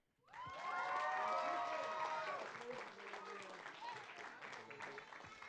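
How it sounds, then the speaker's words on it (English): Applause and cheering break out for a girls' 1A city champion team at a parks and recreation commission meeting, a loud crowd clapping steadily with children shouting and whoops that ease slightly toward the end. "one more round of applause for our girls 1A city champions"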